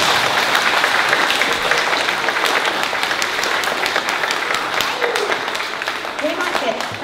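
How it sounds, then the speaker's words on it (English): Young children and families at a primary school presentation day assembly give sustained, lively applause, a steady roomful of clapping with faint voices mixed in toward the end. "Let's give them all a great big clap."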